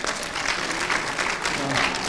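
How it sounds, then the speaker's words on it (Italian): Lively audience applause at an outdoor cooking show with a chef, dense continuous clapping throughout the short stretch, close and fairly loud, with a few voices mixed in. "Applauso"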